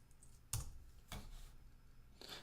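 Sparse keystrokes on a computer keyboard while working through an R programming exercise, a few separate clicks spaced about half a second apart, quiet and close with no talking.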